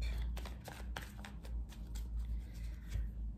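A deck of tarot cards being shuffled and cut by hand, giving a steady close riffling and slapping of cards with soft taps, with no talk over it.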